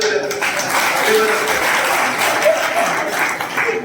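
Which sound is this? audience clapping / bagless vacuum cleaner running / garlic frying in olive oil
audience clapping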